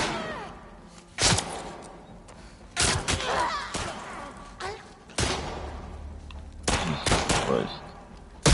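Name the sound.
gunfire from a video game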